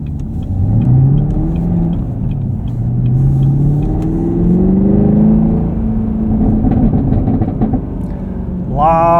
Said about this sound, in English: lot of burbles from this exhaust.